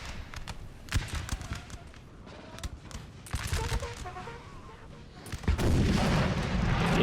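Artillery fire booms across a Napoleon Total War battle, with repeated cannon shots and crackling volleys, some close and sharp, others distant, building into a denser, louder barrage toward the end.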